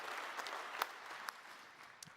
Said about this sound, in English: Everybody get a round of applause for Pentahearth